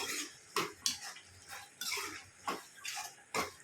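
Spoon scraping and clinking against a pan while birakay (ridge gourd) curry is stirred, a series of short metallic knocks and scrapes in an irregular rhythm, close and fairly quiet, with no talking.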